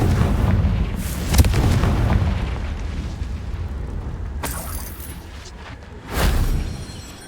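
Confringo fire spells explode in Hogwarts Legacy, booming in three heavy blasts with rumbling tails, the last a little later and swelling louder.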